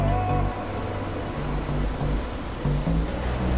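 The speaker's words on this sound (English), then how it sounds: "Here comes the water." Water surges into a canal lock chamber on the Great Dismal Swamp waterway in a steady, loud, rushing roar, with a low rumble underneath.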